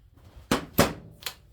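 An air impact gun knocks loose 13 mm pump bolts on a 4L60E automatic transmission, heard as three short, sharp mechanical bursts spaced apart at moderate volume.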